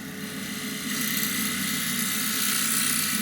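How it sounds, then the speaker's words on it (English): An old skew chisel undercuts a wooden rim on a spinning wood lathe, giving a steady close-up whirring hiss with a low motor hum that grows slightly louder partway through. "Now I've got a little tool here which is designed for undercutting rims and things like this"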